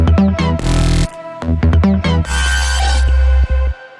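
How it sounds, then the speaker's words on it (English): Drop pad layer in a track, a heavily processed bounce of the vocal layer: loud choppy stabs and gated bursts give way to a swelling sustained wash, ending in brief rhythmic hits, with no talking. "We've got a drop pad layer"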